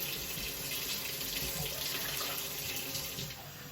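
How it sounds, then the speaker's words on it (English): Water runs steadily from a kitchen tap into a measuring cup, a continuous close splashing hiss lasting a few seconds with no voices. "So I'm going to use this cup to measure out my water."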